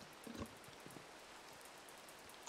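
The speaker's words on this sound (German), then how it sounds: "Ich hoffe mal, dieser olle Regen hört bald auf." Rain falls steadily in Minecraft, a soft, even hiss that stays faint and distant throughout, with a couple of brief clicks near the start and a small rise at the very end.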